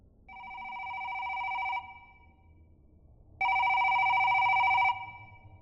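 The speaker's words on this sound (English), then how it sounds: "as soon as I do, my phone starts to ring" Phone ringing in two long electronic trill bursts, loud and close, separated by a short pause, with no voices.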